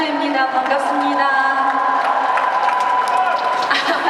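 Crowd cheering and applause at an open talk event of the 2023 Busan International Film Festival, with a loud, continuous roar of voices and clapping filling the whole stretch.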